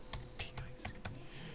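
Typing on a computer keyboard in a word processor: a handful of crisp, quiet key clicks in an uneven rhythm over a low room hum.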